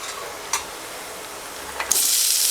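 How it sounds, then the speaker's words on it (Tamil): Crushed black pepper, cumin and fennel seeds hit a hot pan, with a steady faint sizzle, a couple of brief clicks, then a sudden louder hiss rising and holding near the end. "நல்ல மிளகு, ஜீரகம், பெருஞ்சீரகம் நுணுக்கி நான் போடுறேன்."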